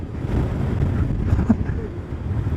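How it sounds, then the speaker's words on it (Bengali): Strong storm wind buffets the microphone on a motorbike ride on the road from Pang to Hanle, a loud, rumbling low roar with gusty swells and no clear voices. "কি ঝড়টা কি ডেঞ্জারাস ঝড় ছিল রে"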